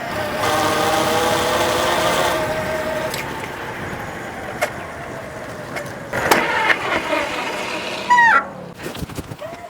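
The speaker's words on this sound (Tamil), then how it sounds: "அந்த மோட்டரோட சவுண்டை கேளுங்களேன்" A DIY electric bike built around a 750 W motor gives a steady whining hum for the first couple of seconds. It then fades into an outdoor village background with chickens clucking and a few sharp knocks.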